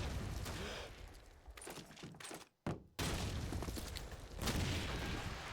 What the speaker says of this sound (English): Nades coming over from Axis